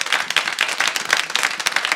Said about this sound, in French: Allez-y, applaudissez vous-même